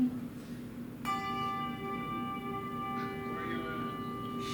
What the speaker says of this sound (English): Larry, can you use a big bell to do a tower swing?